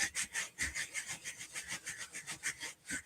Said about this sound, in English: I'm just going to burnish down where my cutouts are.